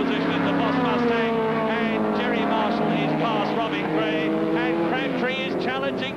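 Saloon race cars roar around the Crystal Palace circuit during the 1971 British Saloon Car Championship, a Boss Mustang among them, their steady engine drone running beneath continuous commentary.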